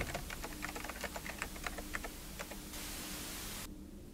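Frantic computer keyboard typing in the horror game Night Security, rapid irregular key clicks over a steady hiss, then only the noise remains for the last second or so, no talk.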